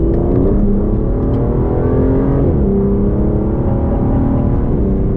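An Aston Martin DBS Superleggera's V12 engine runs loud and close, a steady rich drone that rises and settles in pitch midway, with no talk over it.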